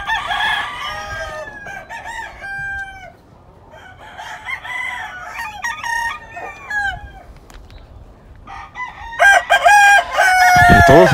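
Lacy Roundhead roosters crow loudly and repeatedly, several drawn-out calls overlapping from near and farther birds, mixed with clucking and other farmyard fowl sounds.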